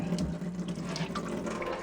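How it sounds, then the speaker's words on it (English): Water pours into a gluten-free bread pancake mixture, giving a short, continuous splashing trickle at close range with no talking. "Now you don't want to add too much water to start."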